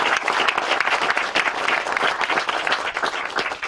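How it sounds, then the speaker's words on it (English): Outdoor audience applause at a baseball groundbreaking ceremony, steady dense clapping from a modest crowd lasting a few seconds. "How about a round of applause for these guys?"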